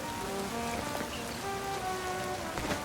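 Rain in Pokemon Legends Z-A falls as a constant soft hiss of drops on surfaces, with gentle background game music tones layered over it and no talking.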